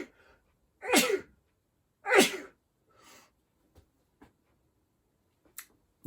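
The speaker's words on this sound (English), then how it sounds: "I'm going to sneeze." Two sharp sneezes a second apart, loud and close, each a sudden burst, followed by a few faint sniffs and clicks in an otherwise quiet room.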